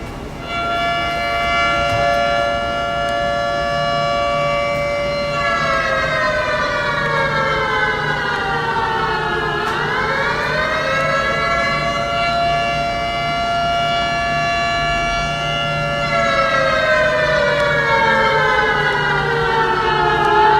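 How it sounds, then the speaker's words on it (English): A loud air raid siren wails continuously, its pitch slowly rising and falling in long sweeps, with no other sound. "That, my friends, is an air raid siren."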